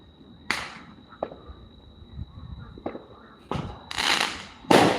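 Fourth of July fireworks bang in a string of sharp, separate blasts, some muffled and distant, others close, ending in louder crackling bursts with no voices.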